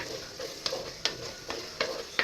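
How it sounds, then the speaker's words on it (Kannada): Chicken frying in a pan is stirred with a spatula, giving sharp scraping clacks about every half second over a faint, steady sizzle. The sound is close, and no one talks. "ಚೆನ್ನಾಗಿ ಫ್ರೈ ಆಗೋವರೆಗೆ ಸ್ಮ್ಯಾಶ್ ಆಗಲಿ"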